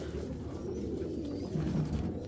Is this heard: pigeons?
yes